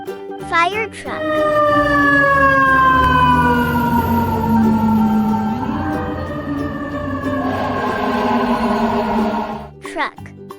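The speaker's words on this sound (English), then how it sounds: "Fire truck." A fire truck siren wails loud and near, one long tone sliding down, then rising again before cutting off abruptly.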